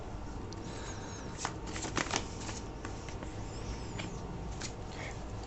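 Tarot cards shuffled and drawn from a deck, a steady soft riffling texture with a few crisper card snaps, close and fairly quiet.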